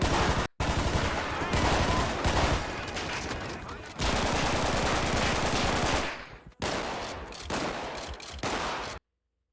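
Gunfire from a GTA 5 shootout with an audio mod, staged like a bank-robbery street battle: loud, dense automatic bursts in long continuous volleys, broken by two brief silences, with no speech.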